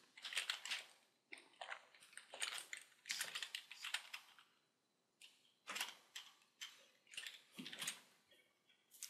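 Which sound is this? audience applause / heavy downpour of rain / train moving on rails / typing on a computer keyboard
typing on a computer keyboard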